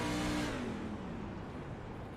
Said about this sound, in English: You can hear him clutching the truck in.